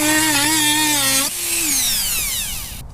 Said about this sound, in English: just going to finish it off with the Dremel.